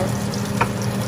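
Salmon fries in a pan toward golden brown, giving a continuous close sizzle with a brief brighter spit in the middle.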